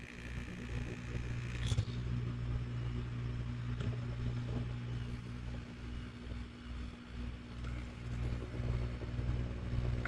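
Aquarium air pump running steadily after being plugged in, a low continuous hum and buzz close by, fairly quiet and even throughout with a few small knocks.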